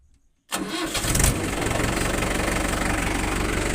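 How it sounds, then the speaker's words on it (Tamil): A tractor diesel engine cranks and catches after a half-second of quiet, then settles into a loud, close, rhythmic idle that knocks steadily to the end. "வண்டி ஸ்டார்ட் ஆயிடுச்சு"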